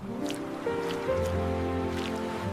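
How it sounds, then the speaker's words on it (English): Steady ocean surf in a children's story about baby turtles hatching on a beach, a continuous low wash with gentle splashes and no clear individual wave breaks. "Ocean."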